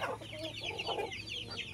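Native Cobra-cross heritage-breed chickens cluck in short repeated bursts, fairly faint and somewhat distant, over a low background hum with no talking.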